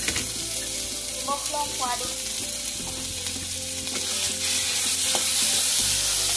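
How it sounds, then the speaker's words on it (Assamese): Tomatoes frying and being stirred in a kadai, a steady loud sizzle with scraping stirs and occasional clinks of the utensil against the pan. "এতিয়া বিলাহীখিনি দি অলপ লৰাই দিছোঁ"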